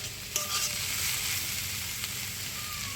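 Watermelon rind curry stirred in a pan, a steady soft sizzle with scraping spoon strokes throughout, close and continuous with no talk.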